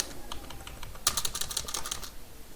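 Fingers type a short word into a spreadsheet on a computer keyboard, a quick run of close, crisp key clicks that is loudest in the middle of the clip.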